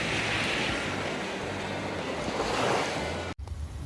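Waves roll onto a lake shore at a provincial park, a broad continuous wash with wind buffeting the microphone, and a brief dropout near the end.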